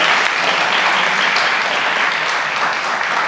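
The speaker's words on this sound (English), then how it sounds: "So a round of applause for Dr. Darlene Beeman" Steady, dense applause fills an awards ceremony hall as an honoree is celebrated, a loud continuous wash of many hands clapping without pause or voices on top.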